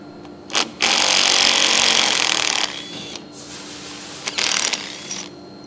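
A ratchet works on a 10 mm bolt on a Cummins 12-valve diesel engine, heard as close, loud stretches of rapid clicking and grinding broken by short pauses, with a brief final burst; no talk.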